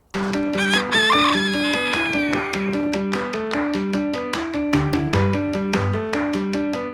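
Backyard chickens with a rooster crowing among clucking hens, loud and close, set against steady rhythmic music with strong beats throughout.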